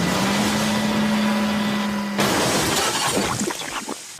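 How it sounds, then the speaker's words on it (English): A model train's flatbed crashes into a stack of roofing slate with a sudden loud shattering, breaking and clattering. Before the impact a steady engine drone with a held tone plays. "His flatbed biffed into the sidings to a stack of roofing slate and smashed it into tons."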